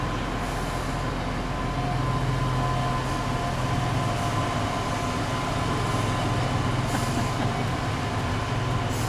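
Steady rumble and rattle of a moving train from Kyiv Boryspil Airport to the city centre, heard from inside a carriage, with a continuous low drone and faint clacking throughout.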